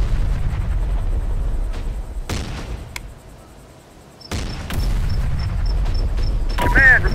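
Heavy gunfire and booming explosions strike a military vehicle in Terminator Dark Fate Defiance during a battle at Fort Worth, Texas. Loud, dense impacts come in bursts over a constant rumble of combat, with voices and radio chatter mixed in.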